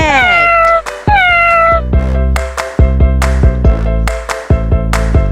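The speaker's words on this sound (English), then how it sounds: "This is cat." A cat gives two loud, close meows in quick succession, then a steady run of repeated bright plucked notes carries on with no talking.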